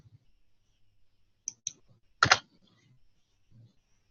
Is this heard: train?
no